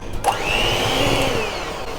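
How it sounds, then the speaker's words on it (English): Cake batter of eggs and self-raising flour being beaten with an electric mixer, a steady close whirring drone with a rising and falling pitch, preceded by a brief clatter. "we're going to give that a really good mix"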